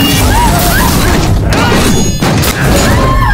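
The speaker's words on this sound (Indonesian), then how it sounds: "Kaca-kaca mobil dihancurkan berkeping-keping." Car windows smashing to pieces during a violent street attack in an Indian film scene: loud, dense crashing and shattering over a heavy, sustained bed of dramatic sound.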